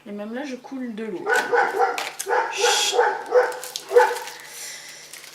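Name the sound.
neighbours' dog barking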